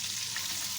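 Chicken koftas fry in hot oil in a kadhai, giving a steady, close hiss of sizzling for a brief moment with no talk.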